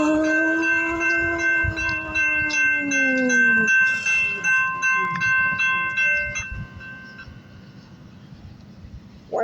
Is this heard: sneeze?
no